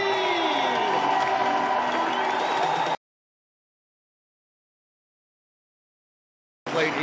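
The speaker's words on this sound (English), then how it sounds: "Big cheer for Dominika Jamnicki in 3rd position as she takes her place on the podium." A large arena crowd cheers and whoops loudly for the third-place bronze medallist at a triathlon podium, then cuts to silence before the noise briefly returns.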